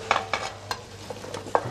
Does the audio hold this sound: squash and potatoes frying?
yes